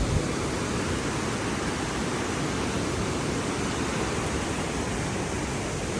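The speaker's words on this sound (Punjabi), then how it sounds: "ਝਰਨਾ ਆਉਂਦਾ ਇਧਰ ਵੀ" A steady, broadband roar of falling water, loud and continuous throughout, from a waterfall near Govind Dham on the Hemkund Sahib route, heard close by with no voices.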